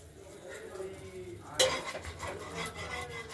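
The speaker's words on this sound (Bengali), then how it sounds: "আর কড়াইতে আগেই তেল গরম হয়ে গেছিলো, আমরা অল্প অল্প করে ভাজা করে নেব।" Potato pieces go into hot oil in a wok with a sudden sharp splash and crackle, and a close, steady sizzle continues with light stirring scrapes.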